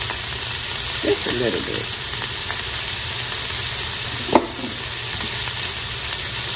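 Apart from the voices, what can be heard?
seasoned onions frying in a pan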